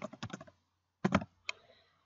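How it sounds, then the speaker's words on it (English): A password being typed on a computer keyboard: a quick run of key clicks, a pause, then another burst and a single stray keystroke, close and clear with no talk. "Type the password you'd like, and then confirm it by typing it again."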